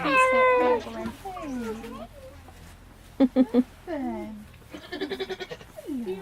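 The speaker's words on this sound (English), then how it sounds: "baby goat. Baby goat." A baby goat bleats repeatedly in high, wavering cries, close by, alternating with a short burst of rapid pulsed bleats, with no voices over it.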